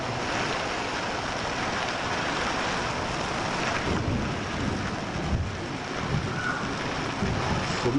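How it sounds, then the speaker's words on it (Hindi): Heavy rain with hailstones pounding down during a storm in Panchavati, Nashik, a dense, steady roar of impacts filling the whole stretch with no voices. "सभी भाई देखिए करीबन आधे घंटे से गिर रहे हैं ये सब पत्थर"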